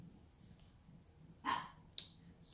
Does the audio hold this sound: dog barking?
yes